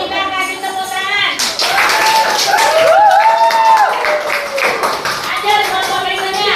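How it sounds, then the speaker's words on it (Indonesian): Classroom of ninth-grade students clapping for presenters in a social studies lesson, a quick burst of claps amid children's voices and chatter that carries on throughout. "Baik, kita kasih tepuk tangan."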